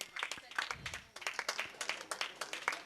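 Spectators at a rural kabaddi tournament clap in a loose, uneven patter of individual handclaps, fairly faint and somewhat distant, with a voice murmuring underneath.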